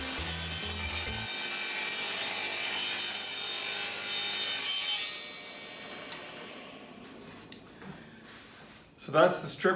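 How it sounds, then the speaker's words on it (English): A saw rips a decorative wood strip for a demilune table, a loud, steady whining cut for about five seconds that then winds down to quieter clatter and a few knocks. "show you cutting that strip off on the saw"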